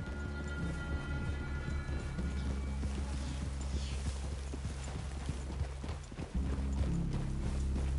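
Horses in the video game Red Dead Redemption 2 walk with steady, overlapping clip-clop hoofbeats at moderate distance, a continuous rhythmic stepping with no talk.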